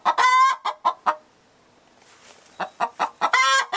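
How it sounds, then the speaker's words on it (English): Hens clucking loudly and close inside a chicken coop, a quick run of sharp squawks, a brief pause, then more rapid clucks. "Demanding chickens."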